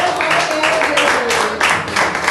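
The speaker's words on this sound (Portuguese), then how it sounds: "Aplauda ao Senhor Jesus" A church congregation applauds, a dense wash of many hands clapping together, loud and sustained across the whole stretch, with a faint voice underneath.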